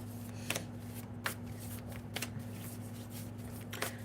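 Oracle cards shuffled by hand at close range, quick riffling bursts repeating about once a second over a low steady hum, with no voices.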